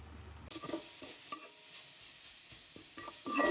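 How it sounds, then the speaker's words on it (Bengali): Chicken and potatoes cooking in a pan, giving a steady hiss with a few scraping stirs; the sound grows a little louder toward the end. "এই যে মুরগি মাংসটা আলু দিয়ে রান্না করছি"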